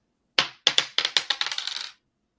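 Dice tossed onto a hard surface, a quick run of about ten sharp clattering bounces that speed up and fade out over under two seconds, close and alone.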